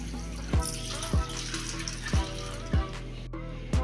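Water poured over soaking lentils in a bowl gives a continuous splashing pour, broken by several sharp sloshing splashes at a roughly regular rhythm, close and moderately loud.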